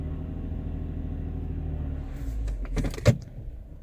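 A 2006 Subaru Tribeca 3.0L engine idles in drive with the brake held, a steady low rumble that runs evenly before a few brief clicks and knocks near the end.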